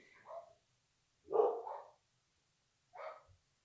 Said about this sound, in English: Sorry, something happened. Dog sounds.